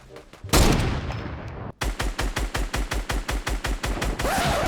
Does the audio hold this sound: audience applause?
no